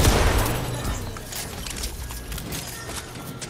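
A shotgun blast in Fortnite opens with a loud, close boom, then fades into a softer rattling tail with scattered faint clicks.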